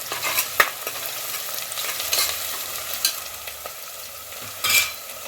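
A spoon stirs freshly crushed ginger and garlic through mutton curry in a pan, giving intermittent scraping strokes over a soft, steady sizzle, with a sharper scrape near the end.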